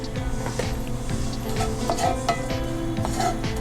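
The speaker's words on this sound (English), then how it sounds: "I'm going to saute those up for a little bit" Onions and red onion, with a little cabbage, sautéing in olive oil, a steady close sizzle with repeated scrapes and taps of a utensil stirring in the pan.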